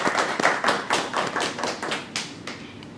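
A small group at a meeting claps hands together in loose, irregular rhythm, a few sharp close claps standing out over several seconds with no talking.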